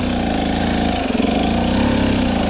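A dirt bike engine lugs at very low RPM in first gear on a hillclimb, making a steady, close, chugging drone with a brief dip in the middle.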